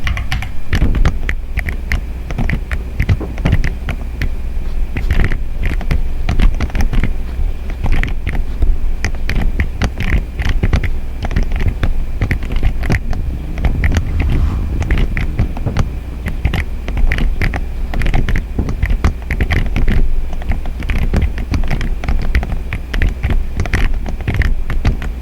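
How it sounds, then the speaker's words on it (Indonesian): Rapid clattering keystrokes on a computer keyboard while typing database queries, close and continuous with irregular bursts, no voices. "Langsung saja kita ketikkan terlebih dahulu ya."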